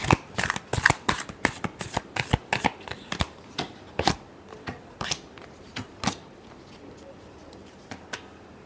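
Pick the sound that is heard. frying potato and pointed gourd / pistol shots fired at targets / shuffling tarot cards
shuffling tarot cards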